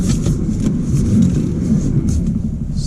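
A Toyota C-HR XLE fitted with a quantum solenoid accelerating on a 30 to 40 mph road, heard from inside as a steady low engine and road rumble with no strong revving peaks.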